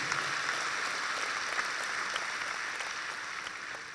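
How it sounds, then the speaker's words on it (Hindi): Loud, dense applause from a large audience at a state investment summit, both hands raised as they welcome a prime minister; steady, sustained clapping fills the whole stretch and fades slightly toward the end, with no talk over it. "एक बार जोरदार तालियां बजा के, दोनों हाथ उठा के ताली बजा के प्रधानमंत्री जी का स्वागत कीजिए"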